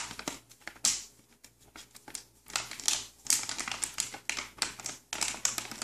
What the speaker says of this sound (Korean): 음식물을 이 휴대용 그 지퍼팩에 이렇게 넣으시고 이렇게 닫아주시고